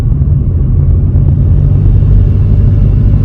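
Steady, loud low rumble from a 2021 Chevrolet Colorado diesel engine fitted with an aFe exhaust and Edge CTS3 tuner, a deep continuous drone that holds through the whole stretch with no talk.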